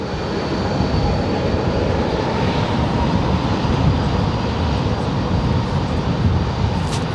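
Airliner taking off from runway 18 left at Dallas-Fort Worth airport, a steady, loud, broadband engine roar that holds throughout with no talk over it.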